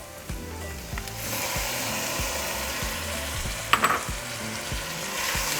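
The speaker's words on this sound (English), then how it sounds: "So now we're just going to cook them for a couple minutes." Shrimp cook in a pan for camarones rancheros, giving a steady sizzle broken by regular scraping strokes of a utensil, with one brief clink of metal near the middle.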